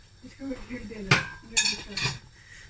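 A lid set onto a cooking pot of lamb and beetroot curry in a home kitchen, giving a few close metallic clinks and clatters over a faint background hum.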